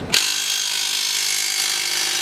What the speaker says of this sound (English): let me try your drill, Derek.